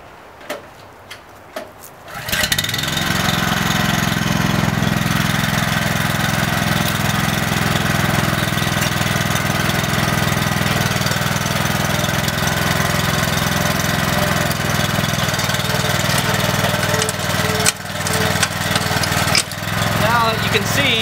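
Tractor engine starts with a short crank and then runs steadily at a loud, close, even drone, with a Berta rotary plow attached. Brief dips in the engine note come near the end.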